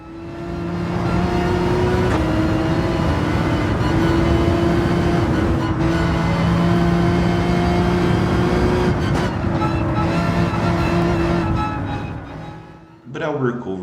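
Race car engines in Gran Turismo 7 as a Ford GT closes in: a loud, sustained engine drone with steady pitch and shifting revs, holding almost throughout before cutting off near the end, with a voice talking over it.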